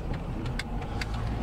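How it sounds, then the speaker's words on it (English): A low, rough grumbling car engine with its check engine light on drones steadily with faint periodic ticking on top, heard from inside the vehicle, no voices. "the car is really worrying me because it's making this like grumbling noise"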